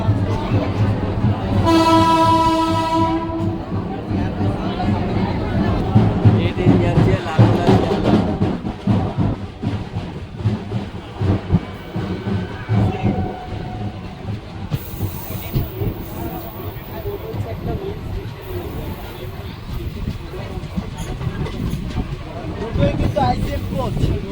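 A new Krishnanagar to Azimganj passenger train sounds a loud, sustained horn blast at a station, then rumbles and hisses as railcars pass, with crowd noise and voices of waiting passengers underneath throughout.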